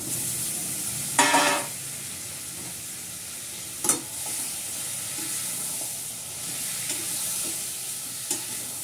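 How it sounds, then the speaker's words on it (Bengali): Boiled mutton with potatoes is stir-fried in an oily pan, a steady sizzle broken by a few sharp scraping and clanking stirs of the spoon. "দিয়ে ভালো করে কষাবো।"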